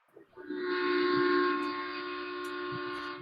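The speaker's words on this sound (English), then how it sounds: "as the train starts heading into town. Still a little ways away, but it's chugging in." A train heading into town sounds a long, steady whistle from a distance, rising quickly and then holding at an even level over faint low rumble.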